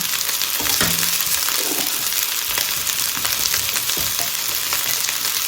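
Asparagus stir-fries in a hot pan with shrimp and red chili, a loud continuous sizzle broken by scraping and tossing sounds up close.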